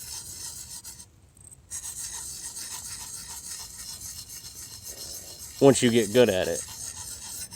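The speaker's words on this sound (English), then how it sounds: "It starts out almost like a gritty, scrapey sound." A knife or hatchet edge is sharpened with a gritty, rasping scrape of steel across a stone, a steady rubbing texture broken by a brief quiet gap, then a few louder strokes near the end while someone speaks briefly.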